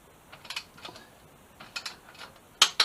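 Ratchet wrench tightening the header bolts on a 2007 Suzuki GSX-R 750 during an engine rebuild, short bursts of close metallic clicking in uneven groups, ending with two louder sharp clicks.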